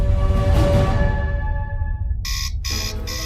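An alarm clock rings in the morning with loud, bright electronic beeping in short repeated bursts, rising over a fading noisy wash at the start, with no talk.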